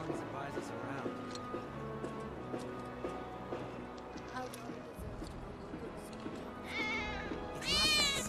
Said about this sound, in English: did you hear that just now? I think one of Betty's cats might be nearby.